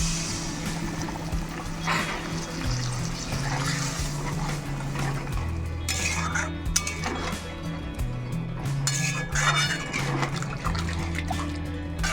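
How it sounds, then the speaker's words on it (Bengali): Water from rinsing a spice bowl is poured into a pot of cooked potatoes for a Bengali fish curry, making a continuous liquid splash and trickle over a steady low hum, with soft background noise throughout. "এবার পরিমাণ মতো জল দিয়ে দেবো, মশলার বাটি ধোয়া জলটা দিয়ে দিচ্ছি আগে"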